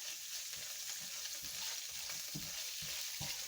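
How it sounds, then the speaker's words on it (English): Beef steak and broccoli stir fry sizzles steadily in a hot pan, a continuous hiss with soft popping and occasional stirring scrapes, heard close with no talking. "Let me cut this pan down super low because that is just popping."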